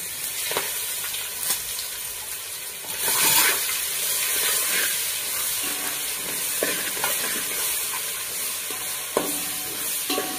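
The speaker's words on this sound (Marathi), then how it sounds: "सर्वात पहिल्यांदा आपण आता यात खडे मसाले टाकून घेऊया सगळे, चांगले भाजून घेऊया।" Whole spices and ginger-garlic paste frying in a pan for egg biryani, a loud continuous sizzle with bursts of spluttering and the scrape of stirring, close up and with no talk.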